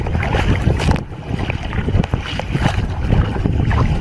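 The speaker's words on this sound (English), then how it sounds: "Heading northeast to the mainland, directly into the swell and the wind." A boat heading near Ranong pushes directly into choppy swell and wind, with loud, constant wind buffeting the microphone and a rumbling hull and water wash throughout.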